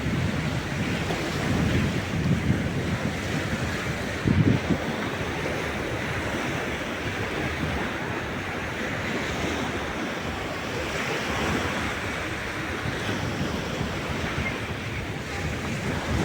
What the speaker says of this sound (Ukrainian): бушує море.